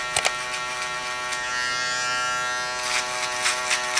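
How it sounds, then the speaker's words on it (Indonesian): An electric shaver smooths freshly trimmed hair during a drop fade haircut, giving a steady close-up buzz with brief scraping bursts as it passes over the scalp. "selanjutnya yaitu kita shaver bagian yang sudah di trimmer"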